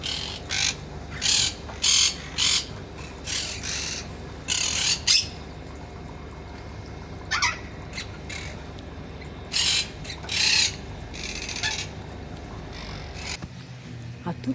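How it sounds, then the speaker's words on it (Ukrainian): Parrots in a zoo aviary give harsh, loud squawks in repeated bursts, some in quick pairs, over a steady outdoor background murmur. "А тут ще один такий вольєр з папугами"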